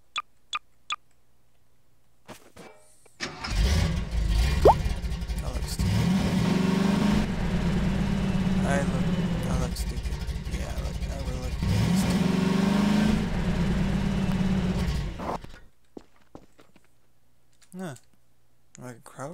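A car driven in the video game Garry's Mod, its engine revving and droning steadily for about twelve seconds between brief clicks and quiet gaps, with a voice talking briefly at the start and end.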